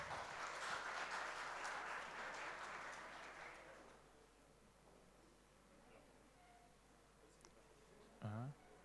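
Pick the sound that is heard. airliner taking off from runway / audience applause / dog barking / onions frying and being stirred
audience applause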